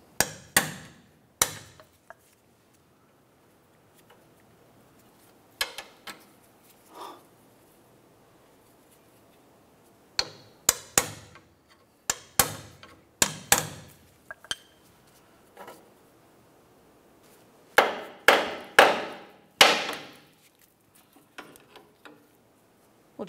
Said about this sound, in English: We'll just give that a couple bonks with the hammer to drive it out of place